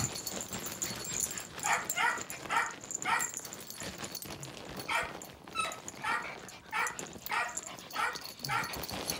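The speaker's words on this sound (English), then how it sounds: "Dog." Pet dogs at home bark and yip in short, clustered bursts, close and fairly loud, with a few quieter whimpers between them and little talk underneath.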